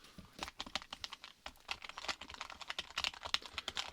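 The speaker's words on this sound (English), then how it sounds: "let me finish typing this in" Fingers type on a computer keyboard during a registration role-play, making quick, uneven key clicks that sound close and soft. No one speaks.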